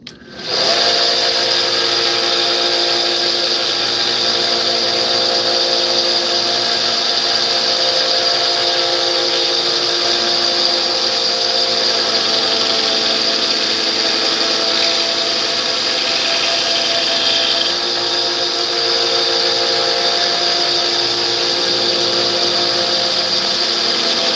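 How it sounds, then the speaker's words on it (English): A belt sander grinds metal in a forge workshop, a loud, steady high-pitched whine and rasp that spins up at the start and runs continuously for the whole stretch, with only slight shifts in pitch and no talk. "only ran the belt sander past it a couple times, but it's taken off a pretty good bit of material"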